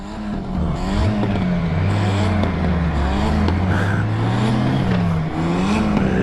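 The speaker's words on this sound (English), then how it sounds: "Got some hot rodders over here in their little junks there." Hot rod cars pass on a warm roadside during a Goldwing motorcycle road trip, their engines a loud, rumbling drone that rises and falls as they roll by nearby, with no talking.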